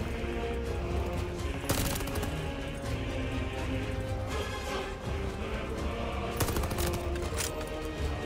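Machine gun fire rattles in the video game Call of Duty Vanguard, with dense, rapid bursts of shots running continuously over busy game noise.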